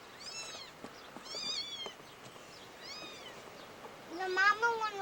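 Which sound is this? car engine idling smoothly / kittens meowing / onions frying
kittens meowing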